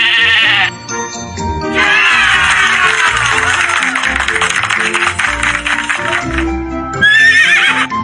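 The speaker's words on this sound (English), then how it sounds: "This is horse sound." Horse neighing loudly in a long, wavering whinny, followed by a shorter second whinny, close and clear with bleating and clip-clop sounds around it.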